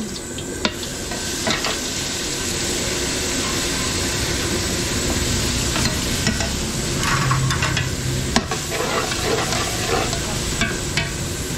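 Margarine sizzling in a pan at the start of a spaghetti sauce for catering, a dense, loud, steady frying hiss with occasional clinks and scrapes throughout.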